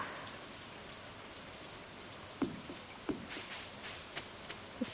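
Heavy rain falling in a steady hiss on outdoor surfaces, fairly faint overall, with a few sharper drips and taps breaking through.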